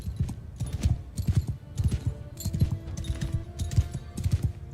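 Horses trotting in a Mount & Blade II Bannerlord battle, a steady rhythmic clip-clop of many hooves at close range with no talking.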